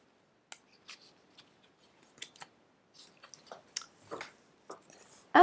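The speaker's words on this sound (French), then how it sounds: "Je suis en train de mélanger mon paquet de fleurs de bac" A deck of Bach flower cards is shuffled by hand, giving a string of crisp, close papery snaps and riffles in irregular bursts, with no talking.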